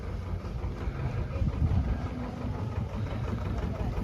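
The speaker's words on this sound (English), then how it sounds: "What a beautiful boat." A boat engine idles with a low, steady mid-range rumble as the boat plods slowly past nearby, holding fairly constant loudness for several seconds with no talk over it.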